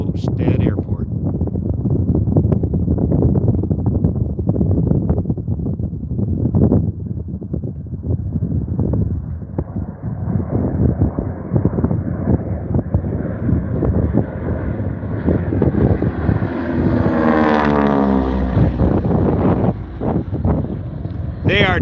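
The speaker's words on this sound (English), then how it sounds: "you could hear those props kind of purring as those tips were" AT-6 propeller planes cruise past at Reno Stead Airport during pylon racing school, their props purring through heavy wind buffeting on the microphone, with one drone rising in pitch and then falling as it passes. A voice speaks over them throughout.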